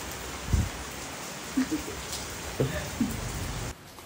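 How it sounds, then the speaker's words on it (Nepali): Rain falls steadily outdoors as a continuous soft hiss, with a few brief nearby knocks and patters scattered through it, before the sound cuts off abruptly near the end. "सो गाइस हामी निस्किलाको पानी पर्यो"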